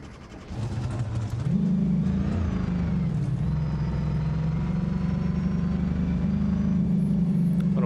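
A Barstow car in BeamNG.Drive revs hard on a hot lap, its engine note climbing and then holding a loud, steady drone through the run with no speech.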